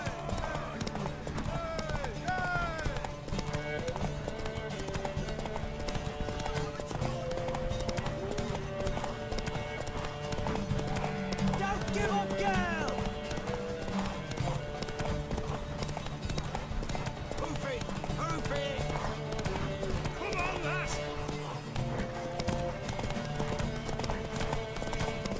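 Steady clip-clop of horse hooves runs throughout, with an occasional whinny, layered under talking voices and background music in the video game The Witcher 3: Wild Hunt.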